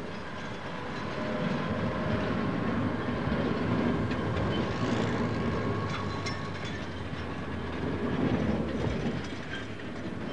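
A sugar cane train rumbles across the main street at Nambour, wheels clicking and squealing over the rails in a steady, loud passage with no voices.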